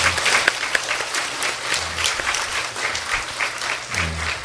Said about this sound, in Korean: 그럼 저희 박수로 좀 환영을 부탁드리겠습니다